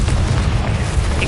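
A spell is cast during a duel in the Hogwarts Legacy video game, a loud dense magical blast with a booming low end that fills the full second with no gap and no voice over it.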